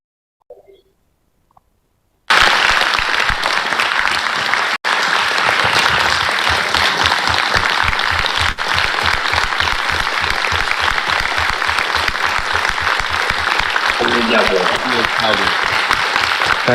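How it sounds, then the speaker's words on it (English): After a brief quiet start, a university audience bursts into loud, dense applause for Volodymyr Zelensky, sustained without a break to the end, with a voice faintly over it near the close. "invite them to give you a round of applause online"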